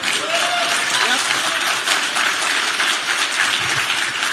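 A live event audience breaks into loud, sustained applause that fills the room evenly without letting up.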